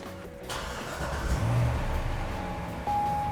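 A 2006 Chevrolet Corvette convertible's engine cranks and fires up, settling into a loud, steady idle close by with a rising whine near the end; no talk.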